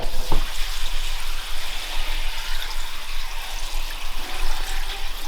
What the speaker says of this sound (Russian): Воду заливаем.